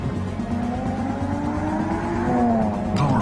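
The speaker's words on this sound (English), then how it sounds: "Introducing the new BMW 3 Series, our most advanced 3 yet." A BMW 3 Series sedan drives past at speed, with a rising engine note and a drawn-out tire squeal swelling toward the end, heard clearly with no voices.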